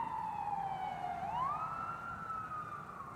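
An emergency vehicle siren wails as it passes, its single tone falling steadily then jumping up and holding higher in a clear Doppler shift, moderately faint over light road noise.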